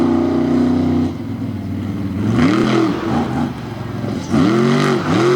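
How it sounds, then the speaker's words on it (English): A monster truck engine roars at a Monster Truck Thunder Drags event on tarmac in Indianapolis as the truck spins walking donuts, with loud revving bursts that rise and fall in pitch, close and dominant. "whipping it into these walking donuts as he slides across the tarmac here in Indianapolis"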